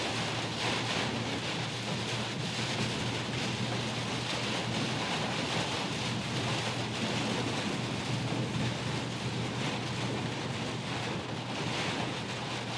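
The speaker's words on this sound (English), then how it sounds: "at least 50-mile-an-hour winds" Heavy rain and strong wind of at least 50 mph lash down during a tornado storm near Burlington, Iowa, a dense, continuous roar of rain and gusts filling the whole span at steady, loud intensity with no talking.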